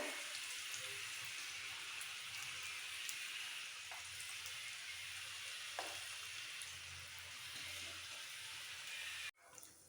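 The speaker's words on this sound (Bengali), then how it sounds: "সেম প্রসেসে এই বলগুলো ভেজে নেবো" Vegetable Manchurian balls deep-frying in hot oil in a kadai make a dense, continuous hiss and crackle that holds steady throughout, with a few faint utensil taps and an abrupt cut near the end.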